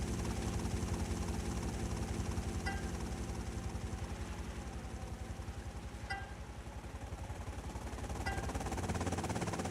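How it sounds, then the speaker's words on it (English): Helicopter in GTA: Vice City Stories flying low overhead, a steady loud rotor chop with engine whine holding for the whole stretch, no voices. "Watch him be so low to the ground that he just hits us with the propellers."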